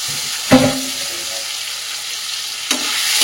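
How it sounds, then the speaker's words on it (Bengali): Prawns frying in spiced oil with tomato, salt and turmeric, a steady close sizzle broken by two sharp clattering stirs of a spatula in the pan. "আমি কিন্তু চিংড়ি মাছটা এর মধ্যে তেলের মধ্যে একবারেই দিয়ে রান্নাটা করছি।"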